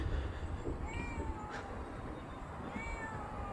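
A cat meows a few times, faint and somewhat distant, in a quiet outdoor spot at night beside an unknown building in Japan, over a low steady background rumble.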